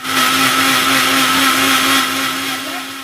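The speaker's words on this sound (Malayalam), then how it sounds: "നമ്മൾ മിക്സിയിലിട്ടാണ് ഉണ്ടാക്കി എടുക്കാൻ പോകുന്നത്." A mixer grinder blends orange juice at steady high speed, a loud continuous motor whine with a churning roar that holds for about three seconds and eases slightly at the end.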